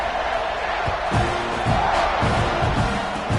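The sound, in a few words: football stadium crowd buzzing after a score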